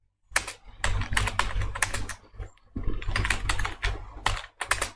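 Code being typed on a computer keyboard in a Java programming tutorial: close, brisk bursts of clattering keystrokes separated by short pauses.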